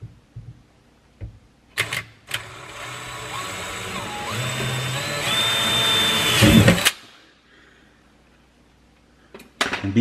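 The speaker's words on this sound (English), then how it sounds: "we have to drill a small, a quarter inch hole there" A power drill boring a small quarter-inch hole to install a drain saddle whirs steadily for several seconds, its pitch rising as it bites, then stops abruptly; brief knocks and clatter before and after.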